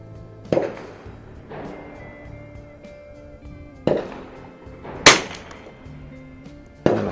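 Four sharp, isolated rifle cracks from a 1952 Remington 513-T fired at 50-yard targets on a windy day, spaced irregularly over several seconds with quiet outdoor background between each report.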